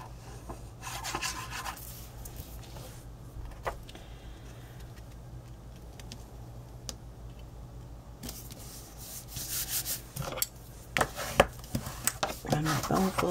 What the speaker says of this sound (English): run my bone folder over it